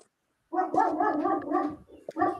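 A dog barks in a movie trivia sound clue, a close run of rough, continuous barking and yelping that fills most of the stretch, with a short pause before a final burst.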